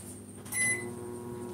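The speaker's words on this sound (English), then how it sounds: "I'm gonna try the microwave one more time." A microwave oven in a home kitchen, a brief beep-like tone over a low steady hum, close and fairly quiet.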